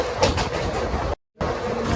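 Krishna Express 17406 runs through Krishna Canal Road junction without stopping, giving a loud, steady rail rumble with faint clatter that cuts out briefly near the end.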